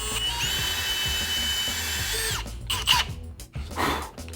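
A power trimming tool cuts a wooden plug while a plastic base is held firmly in place, giving a loud, steady whine for about two seconds that then breaks into rougher, uneven cutting bursts.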